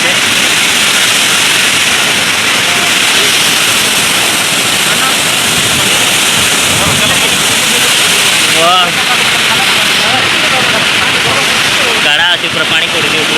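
Water crashes down at Phurlijharan waterfall, Kalahandi, Odisha, in a continuous close hiss and roar, with brief human voices surfacing over it near the end.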